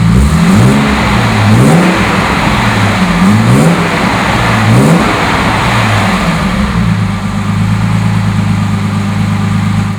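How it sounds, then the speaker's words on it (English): A 1966 Mercedes-Benz 230SL roadster with a fuel-injected engine runs steadily at close range, with a few rhythmic revs early on before it settles into an even idle. "I'd like to start it up for you so you can hear how it sounds"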